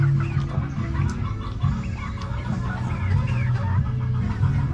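Boston Gold gamefowl in a backyard poultry pen cluck and murmur close by, with repeated soft clucks over a steady, fairly loud low background rumble.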